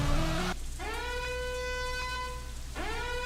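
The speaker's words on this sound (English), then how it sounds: "The rest of my voice is completely drowned out by an even heavier burst of rain." Heavy rain with wind in a stormy scene from the visual novel Katawa Shojo, a steady broadband wash that swells loud, drops briefly while a soft musical tone sustains, then surges again as a heavier burst.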